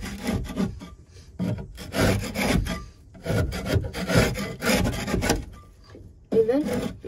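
Bedding inside a chicken coop being loosened and raked, giving dry, scratchy rustling in uneven bursts with brief pauses, close by.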